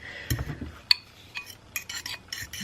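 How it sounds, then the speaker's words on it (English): A spoon stirring keto chia seed pudding in a bowl, giving soft scraping and a few light metallic clinks, quiet and close, with no speech. "Give it a nice little stir."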